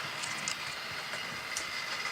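A model railroad train running around a layout track, giving a continuous soft rumble and hiss with faint clicking, fairly quiet and steady, with no voices.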